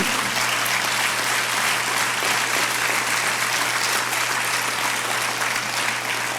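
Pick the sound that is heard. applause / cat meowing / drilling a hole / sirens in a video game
applause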